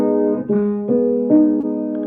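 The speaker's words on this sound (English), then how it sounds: "A minor chord sounds like this." A guitar plays a minor chord, picked or strummed in a few successive attacks that let the notes ring and overlap, clear and alone.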